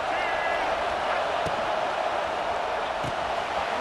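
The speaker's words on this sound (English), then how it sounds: "this crowd is turning it up a notch" A stadium crowd in a college football video game keeps up a dense, steady roar throughout, with a couple of short thuds breaking through the noise.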